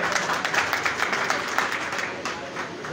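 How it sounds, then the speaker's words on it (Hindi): An audience applauds at a pigeon prize distribution ceremony in Karachi, steady dense clapping throughout, with a voice heard faintly beneath it. "ताली होनी चाहिए भाई।"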